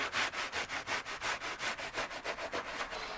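Van carpet being scrubbed by hand, a quick even run of rough rubbing strokes about six per second, close and fairly quiet, with no speech.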